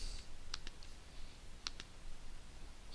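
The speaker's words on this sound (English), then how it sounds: "and then click on the cell" Computer mouse clicking on a spreadsheet cell, a few sharp quiet clicks spaced apart in a near-silent room.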